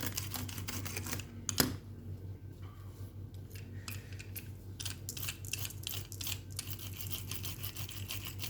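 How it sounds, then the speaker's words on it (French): A small brush sweeps back and forth over die-cut paper pieces, a close, soft, rapid bristly scrubbing in short strokes with a faint sharp tap near the start. "je vais passer un petit coup de brosse"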